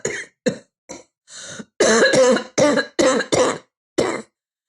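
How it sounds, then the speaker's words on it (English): A run of harsh, close coughs in short bursts, a few single coughs and then a cluster of heavier hacking ones, with no talking. "How long have you had that cough?"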